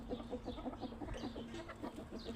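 Household chickens cluck in a steady, rapid run of low, close calls, with no talk.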